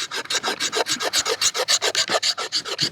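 A Milwaukee insulation knife's spine scrapes fatwood in quick, even rasping strokes, roughly seven per second, close and loud with no talking.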